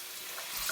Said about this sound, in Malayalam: ഇനി നമുക്ക് ഈ ട്യൂണ ചങ്ക്സ് നമുക്ക് ഇതിനകത്തേക്ക് ആഡ് ചെയ്ത് കൊടുക്കാം